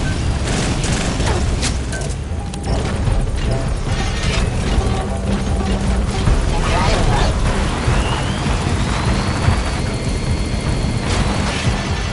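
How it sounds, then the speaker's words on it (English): Helicopter in a video game approaching a landing zone, a steady broadband rotor and engine roar mixed with game sounds and distant booms, continuous and fairly loud throughout. "The chopper can't get close."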